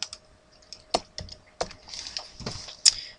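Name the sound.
typing on a computer keyboard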